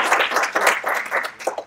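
Brief burst of audience applause at an energy-system seminar in Falköping, many hands clapping close and steady for under two seconds with no voices.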